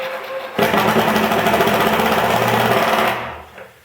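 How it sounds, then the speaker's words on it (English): Power driver drives screws through washers into a wooden woodworking vise, one loud continuous whirring burst of about two and a half seconds close by, winding down at the end. "I'm just going to hold them down tight and drive the screws in"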